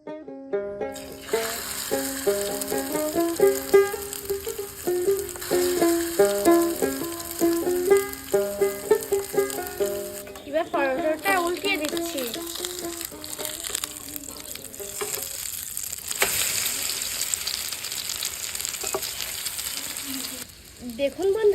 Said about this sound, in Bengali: এবার দিয়ে দিচ্ছি পরোটার গরম তালে